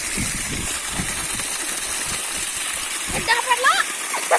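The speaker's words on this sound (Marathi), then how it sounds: "एवढं कंटिन्यू पाणी पडायला बघा" Borewell water gushes out continuously on a sugarcane farm, a steady rushing wash heard under voices talking nearby.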